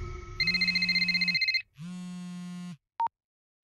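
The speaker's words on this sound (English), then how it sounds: "Okay, I didn't expect a phone call." A phone ringing in Ghostwire Tokyo: a warbling electronic ring tone, then a short gap and a second steadier tone, ending with a brief high beep, loud and alone.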